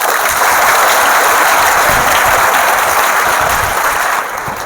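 A student audience at a motivational study seminar claps for themselves, loud, dense and sustained close applause from many people that holds steady for several seconds before thinning slightly at the end.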